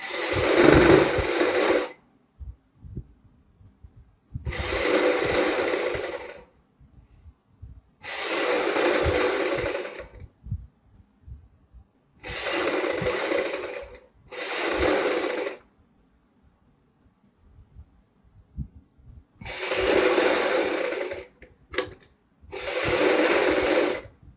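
A sewing machine stitches a suit made over from an old embroidered one, running in seven separate bursts of steady mechanical whirring, each a couple of seconds long, with quiet pauses between them and no talking.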